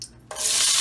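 Onions hitting hot oil in a pan for eggplant bharta, a sudden loud sizzle that jumps in after a brief quiet moment and holds steady and close.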